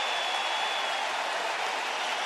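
A sellout baseball crowd of over 44,000 cheers in a steady, dense roar of voices and clapping that holds at the same loud level throughout, with no talk over it.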